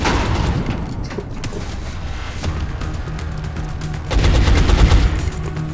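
Rapid gunfire bursts and a sniper shot from the strategy video game XCOM Long War, a dense continuous volley with a louder burst near the end, game sound alone without voices.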